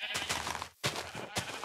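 Sheep in the video game Minecraft, Feed The Beast modpack, bleating loudly and close, three drawn-out wavering bleats in a row with a short gap after the first.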